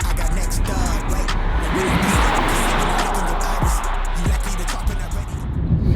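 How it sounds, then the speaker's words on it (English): A Mercedes E350 AMG drives on a road test, its steady broadband road and engine roar loud throughout, with brief tonal swoops and faint voices mixed underneath. "I'm going to take it out for its first test drive"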